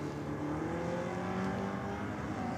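Drag racing cars, a Ford Cortina and an Aeroflow, rumble steadily with rising engine tones, a sustained distant roar of revving motors throughout.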